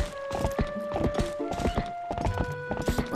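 Horse hooves clip-clopping in Zelda: Twilight Princess, a quick, close, rhythmic gallop of sharp clops over a sustained musical tone.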